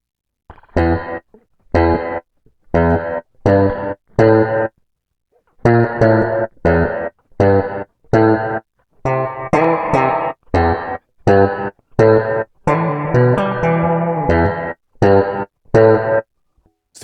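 Electric guitar notes run through a spring reverb effect with an adjusted hold, so each strummed chord cuts off abruptly into silence, a loud series of short gated bursts with no voices.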